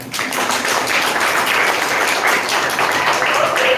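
An audience at an International Women's Day felicitation event applauds, with dense, steady clapping filling the room throughout at a loud, even level.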